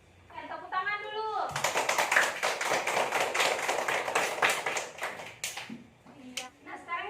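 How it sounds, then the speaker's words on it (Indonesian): A class of children clapping hands together in a classroom, a burst of brisk rhythmic clapping lasting several seconds, preceded and followed by brief voices talking. "Tepuk tangan dulu."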